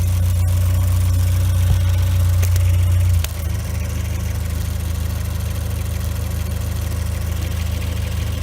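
A 2018 Ford Escape 1.5 EcoBoost turbo four-cylinder idles with its intake top removed, a steady low rumble shifting to a slightly different drone about halfway through, close and continuous with no talking.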